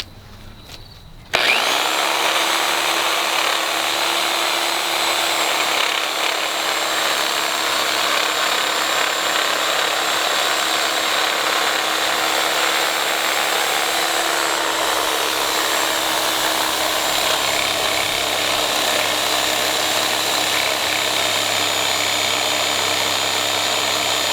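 An electric saw cuts through wood, starting abruptly after a short pause and then running as one loud, steady, unbroken whine that holds at an even level to the end, with no voices.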